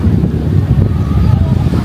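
Strong wind buffets the microphone with a steady low roar at Canyon Cove, Nasugbu, Batangas, continuous throughout, with no clear speech.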